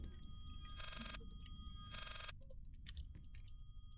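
A telephone rings in the video game Layers of Fear: two long electronic ring bursts, faint and slightly distant, with scattered clicks and a low hum between them, no voices.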